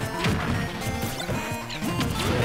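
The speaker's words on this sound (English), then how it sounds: "Grenades coming after Melo" Grenades thrown by Snake explode in a Super Smash Bros match, giving repeated loud crunchy bangs and thwacks in quick irregular succession amid busy game noise.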